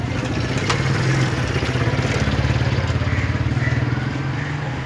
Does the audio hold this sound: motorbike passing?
yes